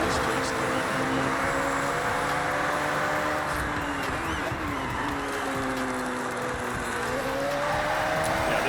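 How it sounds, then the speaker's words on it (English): A Lamborghini engine pushed hard in a Forza Horizon 6 race, a loud sustained roar with rising and falling revs through gear changes, continuous throughout, with someone talking over it. "It's a Lamborghini, so I'm trying to push this to its limit right now."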